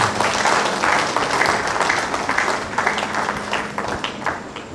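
An audience at a university inaugural lecture breaks into steady applause, a dense, sustained patter of many hands clapping at moderate loudness that continues with no talk over it.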